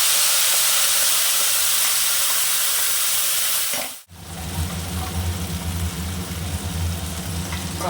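Cinnamon and cardamom hit hot oil with a sudden loud hiss, then settle into a steady crackling sizzle for a bitter gourd curry, no voices over it.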